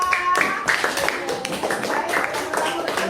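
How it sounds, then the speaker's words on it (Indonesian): A classroom of students claps for a classmate after she answers a question: a few seconds of uneven, overlapping hand claps close by, with voices mixed in. "tepuk tangan untuk Aira"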